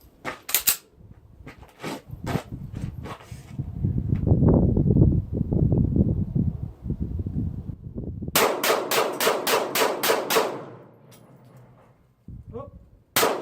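A Sig Sauer Legion P226 9mm pistol fired at a shooting range: a few sharp single shots, then someone talking, then a rapid string of about eight loud, evenly spaced shots, followed by one more faint report.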